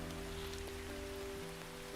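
Steady rain falling on an afternoon, a dense even patter that fills the whole stretch alone, with a faint low hum beneath it.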